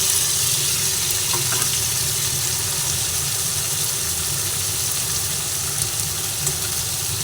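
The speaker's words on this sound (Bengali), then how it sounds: "একসঙ্গে ফুলকপি আলুটা চিংড়ি মাছ সব একসঙ্গে ঢেলে দিলাম" Cauliflower, potato and shrimp sizzle together in a hot pan, a steady, dense frying hiss that holds at an even level from start to finish, with a low rumble underneath and no voices.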